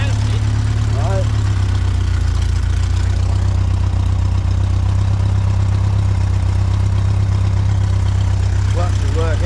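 A 1930s Austin Ten Special engine idles smoothly and quietly with a steady low hum throughout, while people talk nearby over it.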